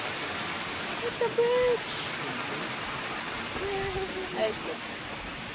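Water pours over the falls at Minneopa State Park near Mankato, Minnesota, giving a constant nearby rushing roar while visitors chat briefly over it.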